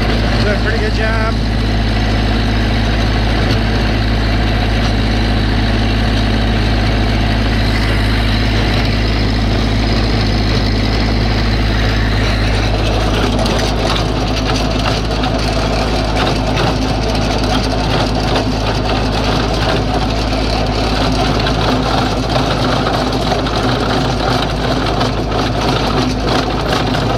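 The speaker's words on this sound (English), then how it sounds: "Tiller does a heck of a job. It's a 4-foot woods tiller." Loud, steady engine drone of a 4-foot Woods tiller working garden ground, running continuously and close throughout with a rough, churning texture.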